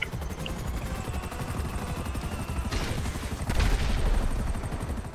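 Gunfire in Grand Theft Auto V Online, as rapid, dense automatic bursts over a steady helicopter rotor drone, with a louder, heavier volley near the end.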